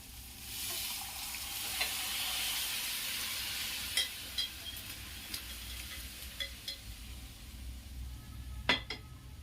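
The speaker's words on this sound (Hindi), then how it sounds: "अब इसमें मैं इस दाल को डाल दूंगी" Chana dal drops into fried spice masala and sizzles steadily at a low level, with occasional clinks of a spoon or utensil against the pan.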